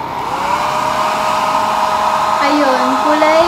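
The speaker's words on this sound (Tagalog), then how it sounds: "papatiyuin ko na siya ng blower" Hair dryer blowing steadily on freshly rinsed, color-treated hair, a loud continuous whirring airflow close to the mic with a slight pitch shift near the end.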